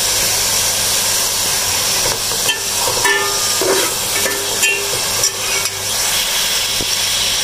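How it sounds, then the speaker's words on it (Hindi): Minced beef sizzling in a pan with ginger and garlic for a white lobia keema, a steady close hiss and crackle running throughout with small spits and pops on top. "पहले एकदम कीमे को भुनने देते हैं, पहले कीमा जैसे भुन जाएगा फिर हम उसको मसाला डालेंगे।"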